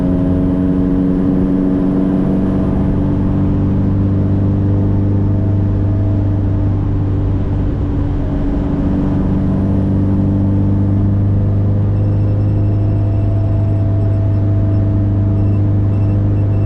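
Ferrari-engined Alfa Romeo 105 cruising on the road, a loud steady engine drone with strong low rumble and sustained harmonic whine, speed nearly constant, heard from inside the vibrating cabin.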